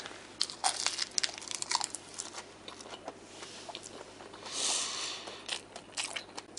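Close, crisp crunching and crinkling from someone eating an egg dish wrapped in dried seaweed laver, with irregular bites and chews over several seconds and no talking.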